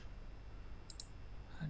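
A computer mouse gives a couple of crisp, close clicks in quick succession during Photoshop work, faint against soft room noise.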